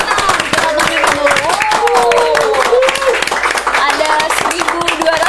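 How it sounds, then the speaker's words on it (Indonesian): Studio audience of about 1,200 people at a podcast taping applauding, a continuous crackle of clapping with a few voices mixed in and a person talking over it. "tepuk tangannya meriah banget"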